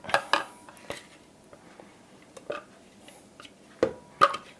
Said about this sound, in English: I want to get all this out of here. That's why I like these silicone spatulas